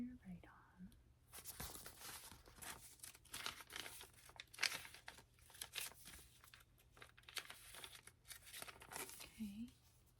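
Paper pages handled and crinkled close up in an ASMR doctor roleplay, soft rustling and crinkling bursts scattered through the clip with faint whispering.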